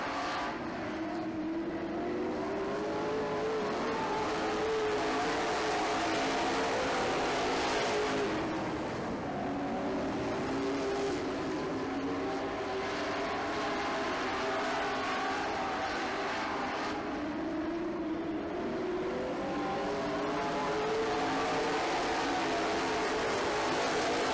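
Race cars circling a short track in a late-stage race, engines droning continuously at mid distance with swelling and fading passes, no voices over the steady roar.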